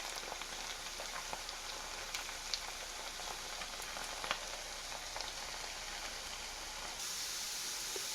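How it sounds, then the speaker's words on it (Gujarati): French fries deep frying in hot oil, a dense, even crackling hiss like light rain, steady and close throughout with no voices. "અહીં ફ્રેન્ચ ફ્રાઈસ તળતા મારે 3 થી 4 મિનિટ થઈ છે"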